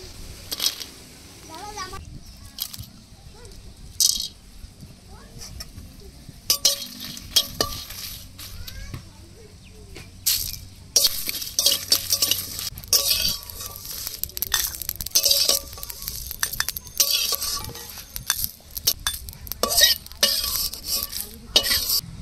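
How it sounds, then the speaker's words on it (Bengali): Dried chillies, cumin, whole garam masala and bay leaf are stirred in a dry pan, giving quiet intermittent scraping and light rattling that grows busier and brighter over the second half. "মালাইকারি রান্নার জন্য শুকনো লঙ্কা, জিরে, গোটা গরম মশলা, তেজপাতা শুকনো খোলায় ভেজে নেব।"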